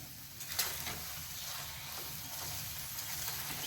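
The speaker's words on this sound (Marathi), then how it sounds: "हा शिरा आणखी 2 मिनिट छान परतून घ्यायचा आहे" Wheat flour sheera roasting in a pan over a gas flame, a faint continuous sizzle and hiss with light scraping from stirring, close and steady, no talking.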